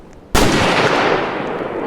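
One loud gunshot bursts suddenly in a storm chasing video game, its crack decaying into a long, noisy reverberant tail.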